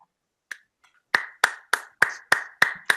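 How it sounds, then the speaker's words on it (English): A single clap, a pause, then a run of seven evenly spaced hand claps, crisp and close. "Why are you clapping?"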